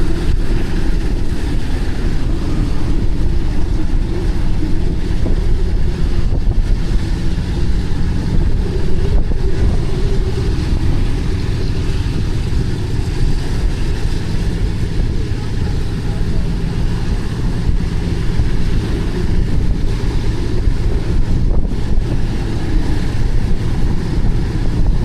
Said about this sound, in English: Engine 2 starts.